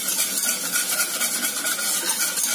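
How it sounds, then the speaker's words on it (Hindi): Cocoa powder and milk for chocolate burfi stirred together in a bowl: a close, continuous wet scraping and swishing with a quick, even rhythm and no talk. "इसे अच्छे से हमें मिक्स कर लेना है।"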